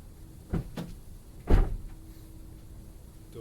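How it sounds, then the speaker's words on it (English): Door of a 2004 Toyota Highlander opened and then shut, two close thuds, a lighter one and then a heavier one about a second later, against a quiet background. "Door open and shut."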